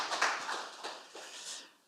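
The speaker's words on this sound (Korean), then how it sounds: "하나님께 영광의 박수를 올려드리겠습니다." A church congregation at a Sunday worship service gives a short round of clapping, a few scattered claps that soon fade, faint and a little reverberant in the hall.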